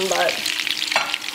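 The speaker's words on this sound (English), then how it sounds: "Oh, they are sizzling." Food sizzling and frying in a pan in the Cooking Mama video game, a steady hiss with light stirring clatter, close and fairly loud with no talk over it.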